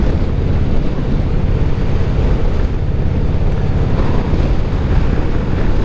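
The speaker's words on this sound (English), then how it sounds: "the wind started and it's just crazy" Strong wind roars constantly across the microphone on the Staller Pass valley road, a loud, unbroken buffeting rush with no voices.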